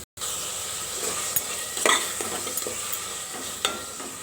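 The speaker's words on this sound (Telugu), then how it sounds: "ఆనియన్ కాస్త వేగిన తర్వాత మనం ముక్కలుగా కట్ చేసి పెట్టుకున్న టమాటాని ఇందులో వేసుకోవాలి" Chopped tomatoes fry in hot oil with onion and curry leaves, giving a steady close sizzle with a few scrapes and clinks of a spoon stirring in the pan.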